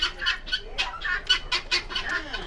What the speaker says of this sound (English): The guinea hens are very loud as well. Hear them?